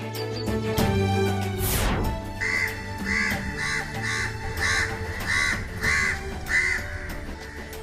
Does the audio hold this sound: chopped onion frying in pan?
no